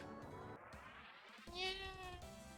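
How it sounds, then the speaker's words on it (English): A video game cat meows, a drawn-out, wavering, tonal call that rises and then falls. A second, brighter meow follows it midway. Both sound close and clear, with no voices. "A cat? I think that's cat been following me from the palace."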